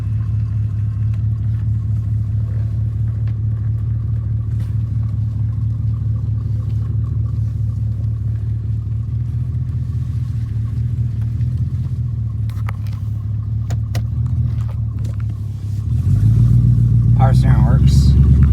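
A Mercedes S430 engine idles with a steady low rumble while the car reverses, the drone constant throughout and growing louder and heavier near the end.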